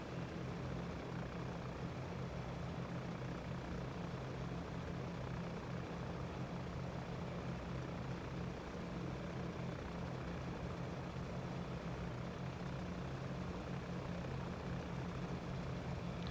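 Aircraft engines run steadily as the plane taxis on the ground, a constant droning roar with a propeller-like hum that holds at an even level throughout, with no voices.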